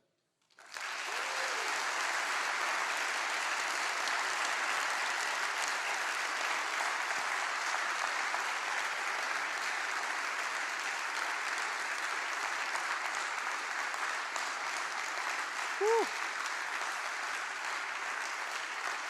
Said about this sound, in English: So I'd like us at least to give WAD a bit of a TED clap that you did with everybody else for today.